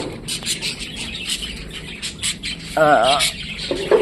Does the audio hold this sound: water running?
no